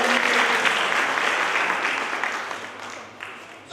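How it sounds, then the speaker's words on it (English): Audience at a college annual function applauding in a dense burst of clapping that gradually thins and fades over a few seconds. "a huge round of applause for all of you"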